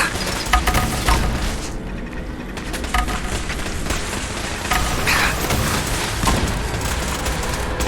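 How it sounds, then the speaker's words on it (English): A missile launcher fired in Fallout 4 amid dense, loud booming and crashing blasts that continue throughout with no pause. "let's go for the missile launcher"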